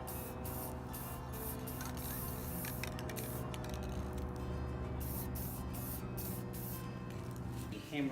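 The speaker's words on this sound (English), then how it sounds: "we're going to spray it with that Rust-Oleum metallic finish there" Aerosol can of Rust-Oleum metallic finish sprayed onto a handmade Thor's hammer, a steady continuous hiss held close and even throughout, with a brief mechanical click near the end.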